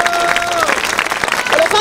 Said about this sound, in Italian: innanzitutto vorrei veramente farvi un applauso.